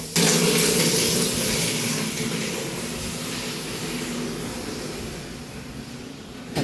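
Water runs for a bath, a loud steady broadband rush from a tap that starts abruptly and continues at near-constant level.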